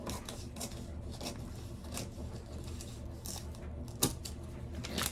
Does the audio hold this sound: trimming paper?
yes